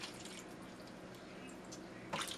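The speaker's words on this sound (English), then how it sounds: "now you're going to see me putting in the 2 cups of water." Water poured from a cup into a pan holding a turkey being prepared Mexican style for Thanksgiving, a faint, steady splashing trickle that stays low throughout, then rises into a short, brighter splash near the end.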